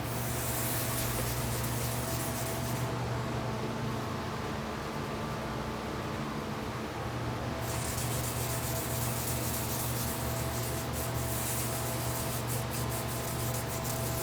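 A heated metal bearing shell is scrubbed to tin it for a babbitt pour: a continuous harsh rubbing hiss, steady throughout, easing briefly in the middle before returning at full strength over a low mechanical hum.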